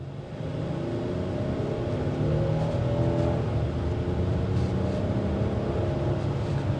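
Inside a 2025 Hyundai Palisade Calligraphy, the engine hums steadily and rises in pitch as the SUV accelerates, a muted, continuous drone beneath road noise with no talking.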